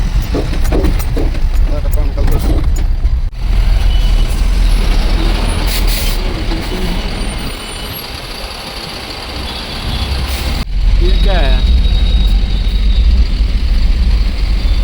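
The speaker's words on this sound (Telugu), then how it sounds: "రైల్వే గేట్ కోసం ఇంత ట్రాఫిక్." Trucks idle in a queue at a railway gate on a highway run from Srikakulam toward Kolkata, a loud steady rumble of diesel engines with a brief air-brake hiss, while someone talks over the traffic throughout.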